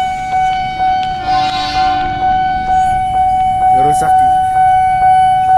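Indonesian commuter train set 6008 passing by, a loud rolling rumble with a sustained horn-like tone and a brief burst of squealing near the end, while someone speaks briefly at the start.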